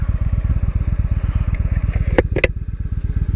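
Engine running steadily at around 950 RPM on a cold day in St. John's, Newfoundland, a deep, even low-pitched chugging pulse, close and constant, with a couple of brief metallic clicks partway through.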